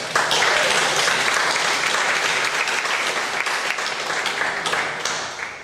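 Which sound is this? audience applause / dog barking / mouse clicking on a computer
audience applause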